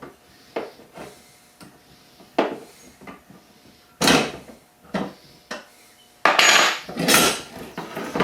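Metal clinks and clunks sound at scattered moments as bolts come out of a Road Star motorcycle's luggage rack, with a few sharp, louder knocks and rattles toward the end and no talking.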